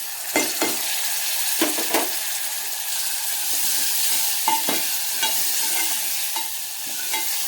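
Tomato and chili fry in oil in a pan with a steady soft sizzle, while a spoon scrapes and stirs in repeated short clinks and knocks up close.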